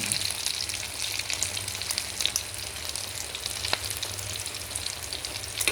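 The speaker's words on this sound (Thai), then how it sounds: "ใช้เวลาทอดไม่นานค่ะประมาณ สามนาทีก็สุกค่ะ" Vegetables dipped in beaten egg frying in a pan, a steady, dense crackling sizzle with scattered pops throughout, fairly close and continuous.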